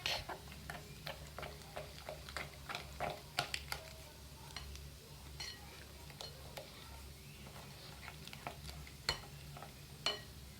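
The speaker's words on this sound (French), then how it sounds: "nous allons faire fondre un peu de beurre dans une poêle à feu vide" Butter melts in a frying pan while crêpes are being made, giving a faint, quiet sizzle broken by scattered small ticks and clicks from the pan, with no one talking.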